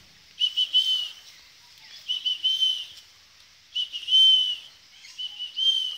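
A person whistles in short repeated high-pitched bursts to call lorikeet parrots, clear and fairly close, with quiet gaps between phrases.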